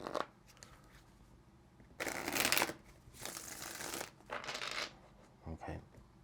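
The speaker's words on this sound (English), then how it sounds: "Let's get one more shuffle." Several bursts of tarot cards being shuffled close up, crisp riffling rustles separated by short pauses in a quiet room.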